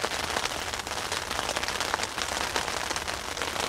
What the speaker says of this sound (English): the rain's keeping it interesting.